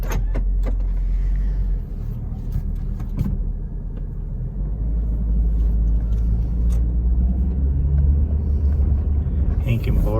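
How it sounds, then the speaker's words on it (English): A Hummer being driven, heard from inside: a steady low road-and-engine rumble runs throughout, with a few close clicks and rattles and voices talking over it. "First time driving a Hummer, boys and girls."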